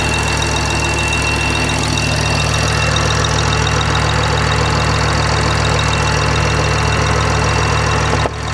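A BMW i8 engine runs with its acoustic cover removed, a loud, steady mechanical clatter and hum with ticking and a faint whine, continuous throughout and alone with no talk.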